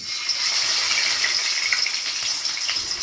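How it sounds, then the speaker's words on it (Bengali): Fish pieces fry in hot mustard oil in a wok, giving a loud, steady crackling sizzle that continues without a break and with no talk. "তেলটা গরম হলে আমি আর মাছগুলো ভাজছি"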